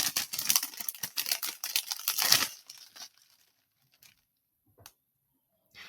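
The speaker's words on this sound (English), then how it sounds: "I'm going to open my bag, and I'm going to take out the string." A plastic bag from a peptide bracelet kit is torn and opened up close, with crinkling and rustling for about two seconds, then a few faint taps in near silence.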